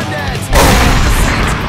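Gunfire in a zombie video game starts as a single heavy boom and then runs into a sustained, loud, dense barrage that fills the rest of the moment.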